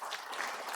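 A church congregation claps at a Sunday worship service, giving a brief burst of steady, dense applause from the crowd that fills the room without any talk over it.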